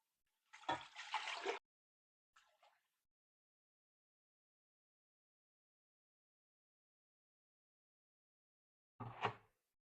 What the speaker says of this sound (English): I'm gonna measure out 10 cups of my vinegar